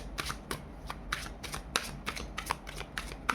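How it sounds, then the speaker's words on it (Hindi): Tarot cards being pulled and shuffled make a quick run of crisp riffling flicks, about ten short bursts in a steady rhythm, close and fairly quiet with no talk. "Let me pull some more cards for you because I need some clarification"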